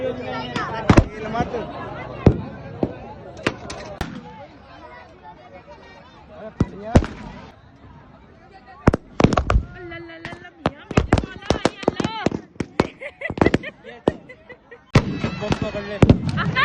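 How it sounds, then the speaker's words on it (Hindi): Firecrackers pop again and again in irregular clusters at a busy Holi street celebration, loud close bangs separated by short gaps, with people talking in between. "बहुत सारे लेडीज जेंट्स सब पटाखे फोड़ रहे हैं"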